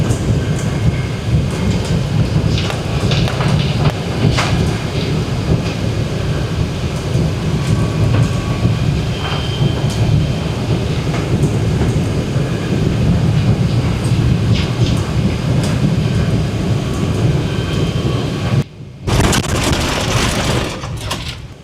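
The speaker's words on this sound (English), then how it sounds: "Very bumpy landing though" Airliner descending and landing at Manchester Airport, heard from inside the cabin as a loud, continuous low rumble and rattle, with a brief dip near the end before the roar resumes.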